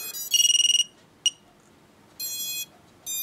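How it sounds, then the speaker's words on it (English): An Eachine Novice III FPV racing drone's onboard beeper sounds several quick, close, high-pitched beeps, one short isolated chirp, then two more longer bursts of tone, with a quiet background and no talking. "you heard beep, beep. The little chirp there, that was the beeper there."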